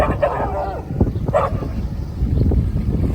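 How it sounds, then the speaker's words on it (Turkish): A dog barks and yips a few times close by over a busy background of chatter and clatter. "Az önceki sevdiğim köpek."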